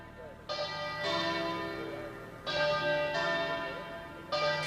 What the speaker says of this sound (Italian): il silenzio rotto dal suono delle campane avvolge la comunità